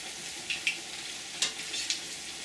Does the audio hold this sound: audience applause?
no